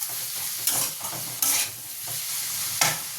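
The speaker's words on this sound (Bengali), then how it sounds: "এবারে আমি ততক্ষণই নাড়বো যতক্ষণ না পেঁয়াজটা গলে যায়।" A spoon stirs onion and freshly added tomato frying in a pan for a Bengali prawn curry with elephant-foot yam and potato, three sharp scraping strokes over a soft continuous sizzle, close and clear with no talking.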